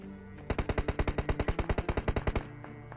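Rapid automatic gunfire from a battle royale video game, a single sustained burst of about twenty evenly spaced sharp shots lasting roughly two seconds, loud and clear with no voices over it.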